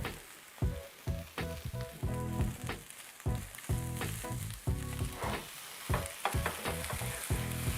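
A feta and portobello omelette fries in a pan, crackling and sizzling steadily while a spatula scrapes and stirs with a quick, uneven rhythm close by.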